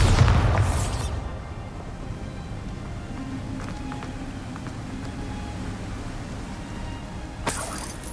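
A Bombarda spell explosion in the Hogwarts Legacy video game bursts with a loud, deep boom at the start, then fades into a low, steady ambient rumble. A second, sharper burst arrives near the end.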